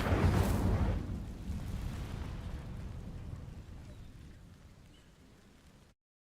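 A burst of fire from the Incendio spell in Hogwarts Legacy sets dry vines alight, opening with a loud whooshing flare that settles into a steady crackling rumble and slowly fades.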